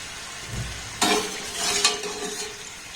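Pieces frying in a pan, with a low crackling sizzle, a clink of a utensil and a short burst of stirring and scraping near the middle.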